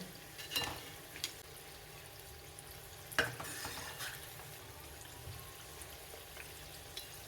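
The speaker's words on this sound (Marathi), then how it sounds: "छान गोल्डन ब्राऊन कलर होईपर्यंत आपण डीप फ्राय करून घेऊया" White potato balls deep frying in oil, a low, steady bubbling sizzle with a couple of sharper stirring knocks against the pan, fairly quiet and without talk.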